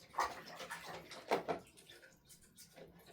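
Tap water running over a fishing rod and reel during rinsing, a soft steady splashing stream with a few louder gushes, fairly quiet throughout.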